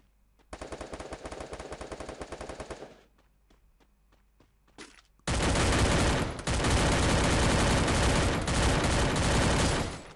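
Rapid automatic gunfire in the video game Free Fire rattles in a long burst, then scattered single shots, followed by sustained heavy firing that fills the scene.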